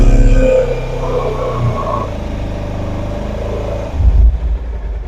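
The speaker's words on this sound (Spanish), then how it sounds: "Entonces tenemos que aumentar las RPM y durante 5 segundos." A car engine held at raised revs for a battery charging test, a steady mid-level drone that eases off toward the end before a brief blip of renewed revving.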